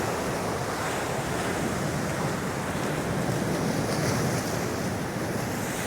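Ocean surf and strong wind on Divi Beach, Aruba, after a storm, a loud continuous roar of breaking waves mixed with gusty wind buffeting the microphone throughout.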